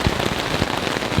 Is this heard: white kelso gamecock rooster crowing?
no